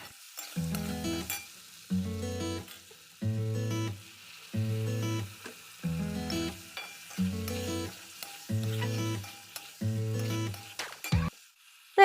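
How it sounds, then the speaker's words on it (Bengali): Potatoes with tomato and turmeric frying in a pan, stirred in regular strokes: about ten evenly spaced sizzling, scraping bursts, close by, with short quiet gaps between them. "এবার ভালো করে একটুখানি ভেজে নেবো"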